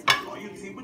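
Raw chicken drops into an aluminum pan with one sharp, close metallic clack that rings briefly and fades into a quiet kitchen hum.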